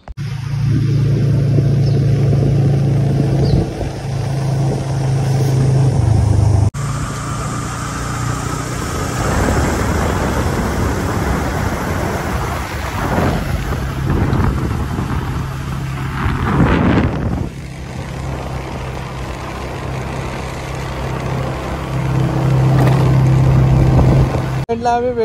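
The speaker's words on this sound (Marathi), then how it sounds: "गाडी कोल्ड स्टार्टला लावतो" Two-wheeler engine cold started and then ridden on a trip to a waterfall in Jawhar near Nashik, a steady engine note that changes pitch at times, with wind buffeting the microphone and loud, close riding noise throughout.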